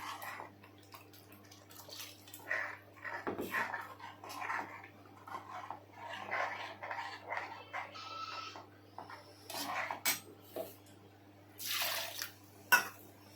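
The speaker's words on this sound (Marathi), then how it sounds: "आता आपण ह्याच्यात पाणी टाकूया" Water poured into ground spice paste for a Malvani rawas (Indian salmon) fish curry, giving intermittent close splashes and drips over a steady low hum, with no voices.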